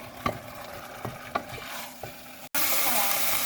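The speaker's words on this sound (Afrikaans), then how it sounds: "Ek gaan nou begin deur om my hoenderborsies te braai in olie op my kastrol." Oil sizzling steadily as chicken breasts fry in a pot, with a few sharp scrapes and stirs early on before the frying noise swells louder.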